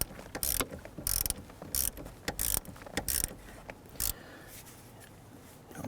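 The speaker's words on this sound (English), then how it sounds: "let's go ahead and tighten down the terminal nut here." A ratchet tightens the battery terminal nut on a 2011-2021 Jeep Grand Cherokee 3.6L V6 in several quick bursts of close, rapid clicking separated by short pauses.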